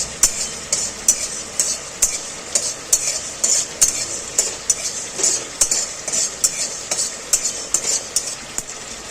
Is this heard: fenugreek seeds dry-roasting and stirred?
yes